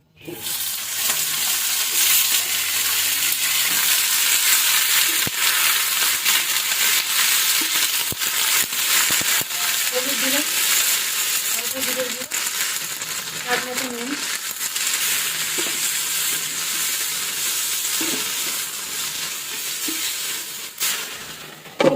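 Beans, potato and eggplant fry together in mustard oil with black cumin and dried red chillies, giving a loud, steady sizzle under intermittent stirring and scraping for the full stretch.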